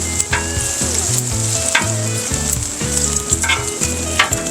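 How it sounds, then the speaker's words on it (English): Bacon sizzles and crackles steadily on a hot flat-top griddle for a smash burger cook, a loud, dense frying hiss with scattered pops and light scraping or shifting of strips, no voices. "Now it's starting to really cook. We like our bacon nice and crispy"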